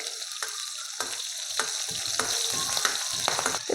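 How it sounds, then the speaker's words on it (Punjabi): Dried red and green chillies, split down the middle, crackling in hot oil as a tempering, a loud close sizzle with repeated bursts of spitting as they are stirred. "ਦੋ ਪਾ ਦਾਂਗੇ ਸੁੱਕੀਆਂ ਲਾਲ ਮਿਰਚਾਂ ਤੇ ਦੋ ਪਾ ਦਾਂਗੇ ਹਰੀਆਂ ਮਿਰਚਾਂ ਇਹਨਾਂ ਨੂੰ ਆਪਾਂ ਵਿਚਾਲਿਓ ਕੱਟ ਲਿਆ ਸੀਗਾ ਤੇ ਹਲਕਾ ਜਿਹਾ ਆਪਾਂ ਤੜਕ ਲਾਂਗੇ"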